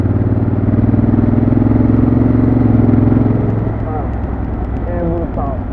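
A 2017 Honda Africa Twin motorcycle engine held at around 2,000 rpm with half throttle, a loud, close, steady droning rumble that eases off partway through, with someone talking over it.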